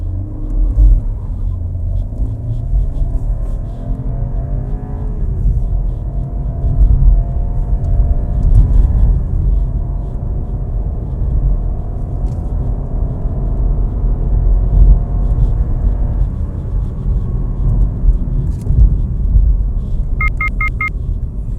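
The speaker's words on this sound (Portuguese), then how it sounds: "A hora que eu pressionar o pedal do acelerador, vai ativar o Launch Control e nós vamos fazer a aceleração" A 2021 BMW 320i M Sport engine roars loudly and steadily as it launches uphill with launch control, its pitch climbing as the car accelerates hard, with a deep rumble throughout and no talking.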